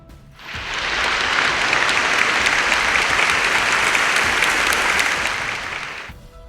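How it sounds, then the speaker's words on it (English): Steady applause from a crowd fades in, holds at full strength for several seconds of dense clapping, then drops away quickly. "Let's give these actors a quick round of applause"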